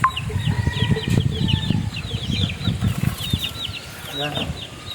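Hens clucking in a Filipino backyard flock, a steady chatter of soft clucks with higher chirps of chicks throughout, fairly close, while a person talks intermittently.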